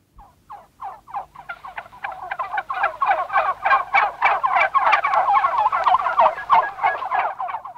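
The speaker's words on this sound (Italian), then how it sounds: "Avete sentito il curioso verso del tacchino." A turkey gobbles in rapid, rattling bursts that speed up and grow louder, repeated calls running together over several seconds.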